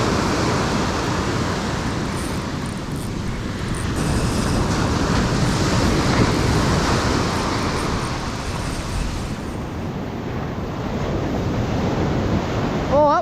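Ocean surf breaks steadily on a beach where someone is topwater fishing, a continuous broadband wash of waves with gusty wind noise across the microphone, loud and close, with no talking.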